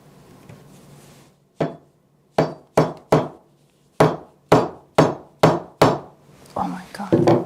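A chisel is hammered into wood to chop out dovetail waste: about ten sharp, loud mallet strikes land at uneven intervals, each a crisp knock that rings briefly, followed by softer scraping at the end.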